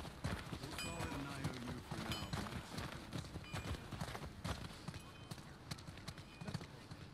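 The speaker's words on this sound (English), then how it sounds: "Don't want to stand behind a horse." Horse hooves in the video game The Last of Us Part II clip-clop in an uneven walking rhythm at close range, with muffled voices and clatter in a busy background.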